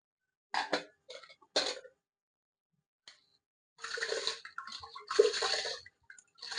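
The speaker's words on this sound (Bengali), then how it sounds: "এখানে পরিমাণ মতন জল দিলাম প্রেসার কুকারে" Water is poured into a pressure cooker while preparing a steamed rice-and-lentil snack, coming as a few short splashing bursts and then a longer, louder pour near the end, with quiet gaps between.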